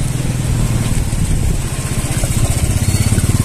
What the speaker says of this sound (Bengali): ফুল থ্রটল মেরে উঠে যাও উঠে যাও